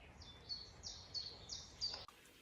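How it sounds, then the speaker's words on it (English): Birdsong drifts in at a quiet country chateau: a few clear, high repeated phrases in a regular rhythm, faint and somewhat distant over a soft background hush. "it's wonderful just sitting here and listening to the birds"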